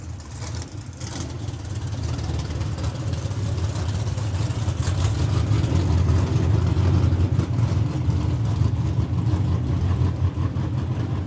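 Pro stock drag cars at a four-wide qualifying session at ZMAX Dragway, a loud sustained engine roar with a deep low rumble that swells and holds steady throughout, no voices over it.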